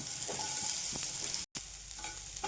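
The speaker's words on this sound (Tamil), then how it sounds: "இந்தளவுக்கு வந்து ஆனியன் ஃப்ரை ஆனால் போதும்" Lengthwise-sliced large onion frying in hot oil gives a continuous, close sizzle with light stirring touches and a brief moment of silence midway.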